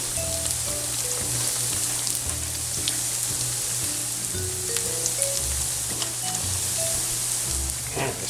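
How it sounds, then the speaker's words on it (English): Potato doughnuts fry in hot oil in a cast iron pan, giving a steady, close, dense sizzle with scattered pops and crackles throughout. "here we were able to fry a dozen donuts at a time"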